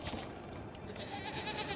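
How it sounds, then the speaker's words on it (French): A goat bleats in a Batman video game, one short wavering bleat over a soft game backdrop. "Et cette gentille chèvre va nous l'accueillir."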